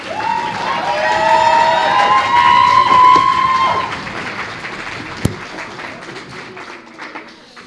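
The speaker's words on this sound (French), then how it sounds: "accueillir sous les applaudissements notre dernier candidat" A hall audience at an eloquence contest final greets the last candidate with loud applause mixed with cheers and shouted whoops. It builds, peaks, then fades to scattered claps with one sharp knock near the end.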